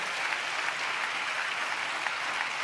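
A church congregation clapping hands together, a dense steady applause filling the room evenly for a few seconds with no speech on top.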